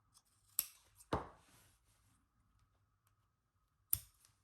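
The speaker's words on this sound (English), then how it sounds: "I left this little corner that I can now nip it with the scissors" Steel scissors nip the corner of quilting fabric, giving three sharp, close snips spaced out with quiet gaps between them.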